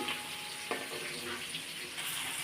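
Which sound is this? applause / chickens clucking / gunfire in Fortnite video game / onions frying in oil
onions frying in oil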